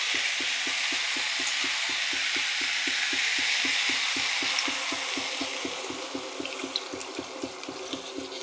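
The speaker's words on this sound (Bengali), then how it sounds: "এবার দিয়ে দিচ্ছি জল।" Water poured into a hot pan of soybean, potato and poppy-seed curry with onion greens, a loud hissing sizzle with steady rapid bubbling that gradually settles, close up and without talk.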